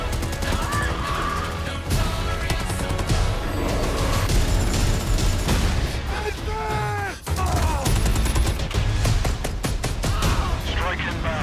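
Gunfire in the video game Black Ops Cold War multiplayer: dense, continuous volleys of automatic fire with booms and explosions mixed in, loud and close, with a brief drop in the middle before the shooting resumes.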